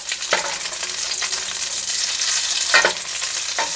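Asparagus frying in a pan with about two tablespoons of oil, a steady close sizzle with a few sharper crackles and stirring scrapes, loud and with no talk over it.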